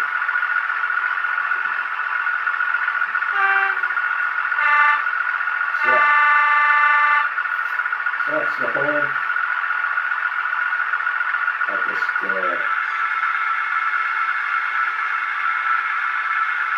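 A Bachmann MPV model train with Legomanbiffo sound fitted starts up, a steady electronic engine drone joined by short horn-like tones and clunks, with someone talking over it.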